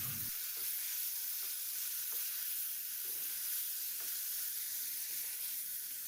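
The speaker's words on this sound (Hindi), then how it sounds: "थोड़ी देर अच्छे तरीके से इसको हिलाएंगे ताकि टमाटर जो हैं वो सॉफ्ट हो जाएं" Chopped tomatoes sizzle steadily in hot oil in a chicken karahi, with soft scraping stir strokes breaking through every second or so; continuous close frying hiss, no voices.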